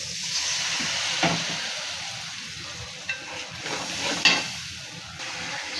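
Spices frying in a pan with fish heads, fish pieces and dried fish after a little water is added: a soft hissing sizzle with a few light utensil clinks and stirs.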